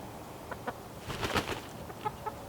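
Hens clucking inside a coop with a skillion roof, a few soft clucks and short calls close by, rising briefly in the middle against a quiet background.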